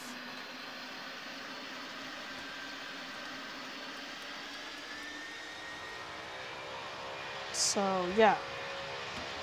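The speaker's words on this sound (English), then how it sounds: "And now boom, turn around and take off" Airplane engine droning steadily at a regional airport as it turns and takes off, a low sustained roar that stays fairly constant, with a voice briefly speaking near the end.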